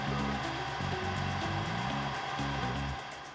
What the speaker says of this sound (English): now I'm gonna increase the speed of the stand mixer, and I'm gonna add cold, heavy whipping cream until we have some soft peaks